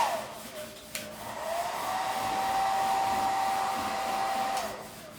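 A Revlon blow dryer runs close by with a steady whooshing roar and a high whine, rising after a click and holding steady before tapering off.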